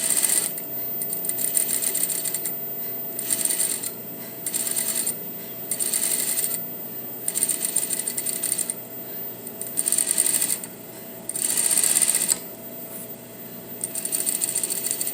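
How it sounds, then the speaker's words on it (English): Sewing machine running a basting stitch along a puff sleeve, rapid whirring stitching in repeated bursts separated by brief pauses, close and loud with no speech. "And we're going to sew again another basting stitch."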